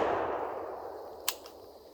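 A Panzer Arms SCR XII shotgun misfires, giving one sharp, dry click followed by a fainter second tick. Both sound close against a fading background wash, with no speech.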